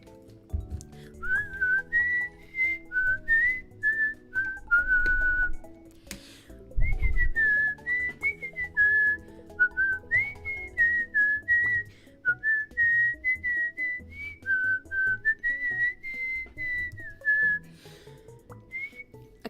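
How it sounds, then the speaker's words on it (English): A person whistles a long, high, wavering melody, the notes sliding and held in near, clear phrases over a faint backing. "I don't even know if I can go that high whistling."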